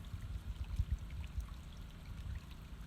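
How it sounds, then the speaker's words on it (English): A small, fast-running clear stream in Zion, Utah, gives a steady low rush of water, close and moderately quiet, with no talking over it. "a little stream of running water. It's running pretty fast."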